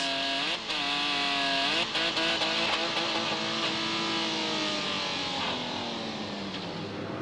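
Barber Dodge Pro Series race car at Lime Rock Park with a stuck throttle, its engine howling continuously at high revs, the pitch wavering and gradually dropping, loud and sustained with no talk.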